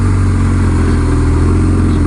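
An air-cooled boxer engine idles steadily nearby while warming up, a loud, even low rumble with a faint rhythmic beat and no other sounds.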